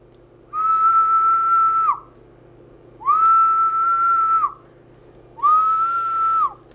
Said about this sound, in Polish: Ja gwizdnę do mikrofonu